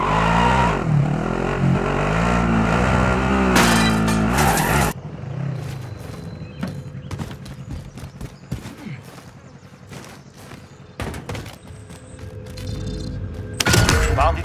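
A vehicle is driven in a Call of Duty Modern Warfare battle royale match, with a loud engine roar at first, then quieter rumbling broken by sharp bursts of gunfire and impacts.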